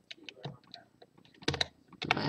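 Quick, light keystrokes on a computer keyboard come in short irregular bursts as a name is typed, close and fairly quiet with brief pauses between clusters of clicks.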